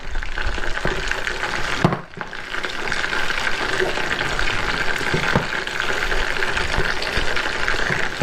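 Steak Diane sauce sizzling in a pan with the steak, a dense continuous crackling sizzle heard up close, briefly dipping for a moment before carrying on steadily.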